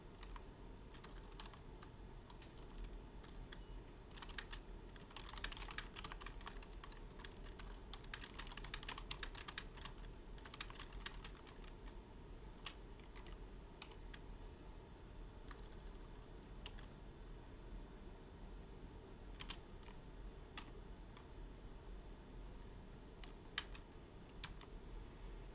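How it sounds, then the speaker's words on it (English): Someone types on a computer keyboard during a World of Warcraft stream, with bursts of quick, close key clicks separated by pauses and scattered single taps over a low steady room hum. "What am I gonna type here?"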